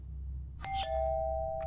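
A doorbell in a horror video game sounds once, a two-tone chime that rings out and lingers over a low ambient hum, with no talk during it.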